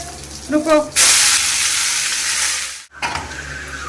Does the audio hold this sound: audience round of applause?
no